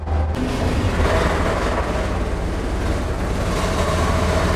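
Leyland National single-deck bus engine under way on an open road, a loud, steady low rumble with road roar and rattle filling the whole stretch, no voices.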